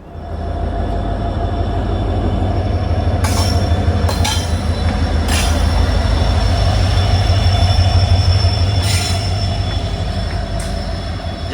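A WDG 4 diesel locomotive hauls the Guwahati–Silchar Express through a hill station, steady loud rumble of wheels and carriages rolling past, with a few sharp metallic squeals and clanks standing out along the way.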